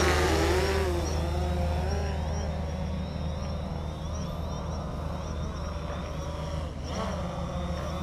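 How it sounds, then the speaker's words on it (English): A DJI Phantom 4 quadcopter's propellers spin at full throttle, a loud steady whine and buzzing drone holding throughout with slight pitch wavering, nearby and without talk. "to start the propellers on the drone itself, you pretty much just hold down both joysticks and you just full throttle it"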